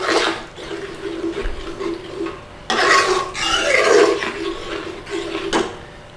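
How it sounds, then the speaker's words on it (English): Garam masala stirred into a pot of chicken rogan josh, giving wet, sloshing scrapes in bursts with brief pauses, close and moderately loud. "In with some garam masala. Give that a stir in."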